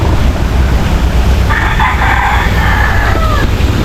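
Rhode Island Red chickens on a farm cluck under a steady low rumble while a rooster crows once mid-clip, its drawn-out call fairly close and clear.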